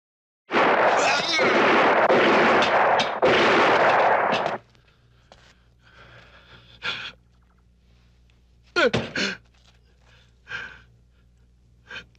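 Several loud, rapid gunshot bursts in quick succession, then near quiet broken by heavy breathing and gasps.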